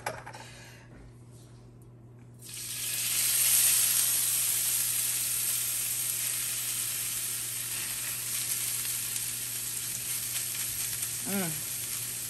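Hash browns fry in a pan on an electric stove in a cabin kitchen, a loud continuous sizzle kicking in after a quiet start and holding steady, with a brief clink of a utensil near the end.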